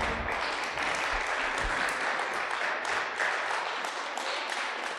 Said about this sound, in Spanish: Le podemos dar un fuerte aplauso a nuestro dueto de alabanza.